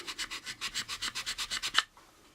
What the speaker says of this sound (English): at an angle, hold our sandpaper and sand it right about there